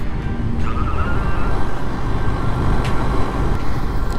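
A maxi-trail adventure motorcycle rides through Tunisian desert-edge country. Steady engine drone and wind roar continue unbroken, loud and close, with no talking.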